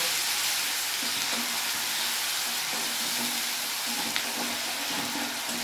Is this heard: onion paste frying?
yes